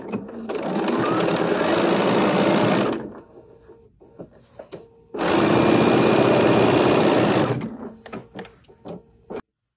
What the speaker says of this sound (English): And stitch this into position.